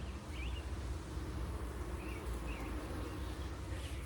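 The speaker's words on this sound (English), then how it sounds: "You see the bees?" A steady, dense buzzing of many bees at a hive hums close by with no pauses, over a low rumbling background.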